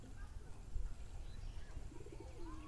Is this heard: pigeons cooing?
yes